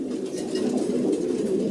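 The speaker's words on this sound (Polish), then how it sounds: "gołębie, które przyszły z lotu." Racing pigeons just back from a long-distance race from Vetschau, cooing steadily in a loft, a dense murmur of several birds close by with no one talking.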